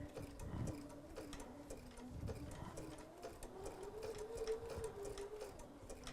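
A domestic sewing machine stitches around a tight appliqué corner, its needle running in a steady, fairly quiet hum with brief pauses and restarts as the fabric is turned.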